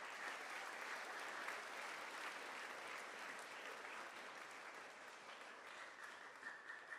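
Steady applause from an audience at a fifth grade moving up ceremony, continuous and fairly distant, holding at an even level for several seconds.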